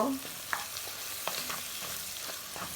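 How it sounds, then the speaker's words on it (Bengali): Dried fish curry with ginger, garlic and spices sizzles in a pan, a continuous frying hiss broken by light scraping clicks as it is stirred, with no talking. "এখন লাড়া দিব"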